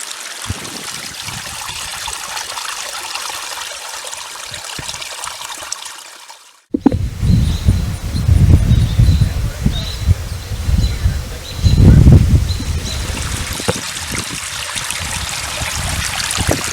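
Water trickles and splashes down a small backyard fountain waterfall, a continuous close babbling stream with louder splashy surges, joined by faint birdsong and insect chirping in the background.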